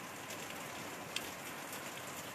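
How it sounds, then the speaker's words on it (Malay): Steady heavy rain hisses evenly and fairly quietly throughout, with no talking. "Sebab di sini hujan lebat."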